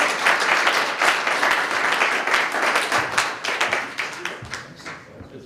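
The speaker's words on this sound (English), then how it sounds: "Michael Shames, Jan Caldwell, Darren Pudgel, give them a nice round of applause." Audience applause at the close of a media panel event, a dense wash of many hands clapping steadily for several seconds before thinning out slightly toward the end.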